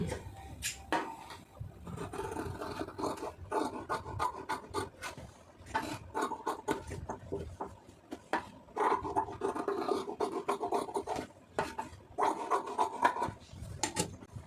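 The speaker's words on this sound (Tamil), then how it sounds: "இப்போ கட் பண்ணிடுவோம்" Scissors cut through blouse fabric in quick, irregular bursts of crisp snipping and rasping, close and fairly quiet, with short pauses between cuts.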